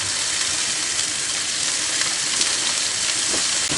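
Steak sears in a pan on a stove inside a camping hot tent, a loud, close, continuous sizzle and hiss of fat frying with a few faint crackles, no voices.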